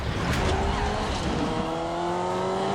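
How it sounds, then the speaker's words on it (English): A black sedan veering into oncoming lanes on a California road and sideswiping a passing white car: a sharp impact crack followed by squealing tires and engine noise, with a faint voice underneath. "as the black sedan veers into oncoming lanes, it sideswipes a passing white car"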